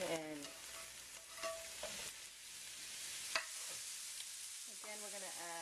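Mushrooms fry in a couple teaspoons of oil for Korean jap chae, giving a soft, steady sizzle with occasional stirring scrapes in the pan, quiet and close, with brief bits of talk.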